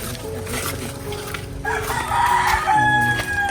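A stag rooster crows loudly and close by on an island farm, the call swelling midway and holding strong to the end, with faint background chatter and other farm sounds underneath.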